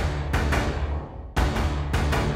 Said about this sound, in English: Now adding the processed meter saw sample sounds like this.